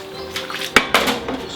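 A spatula stirring pork, potatoes and sliced Kalamata olives in a pan with the heat off, giving two sharp metallic scrapes and clinks against the pan over a faint background.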